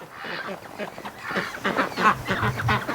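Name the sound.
ducks coming to the gate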